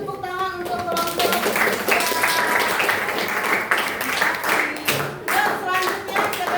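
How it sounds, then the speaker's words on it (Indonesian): A classroom audience claps for a student group at an Indonesian school gathering, brisk uneven clapping close by, with children's voices chattering through it and a few individual claps standing out. "Kasih tepuk tangan untuk kelompok."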